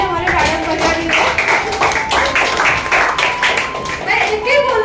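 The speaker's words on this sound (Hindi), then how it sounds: "जोरदार तालियां हमारे मैडम बजा रही है।" An audience at a network marketing training session claps in loud, uneven bursts of hand strikes, with a voice talking over the clapping throughout.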